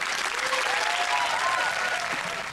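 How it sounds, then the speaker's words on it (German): Studio audience applause during a TV comedy sketch, a loud, dense, continuous wash of clapping, with faint whoops or whistles rising briefly over it. "Ein Applaus für Beate"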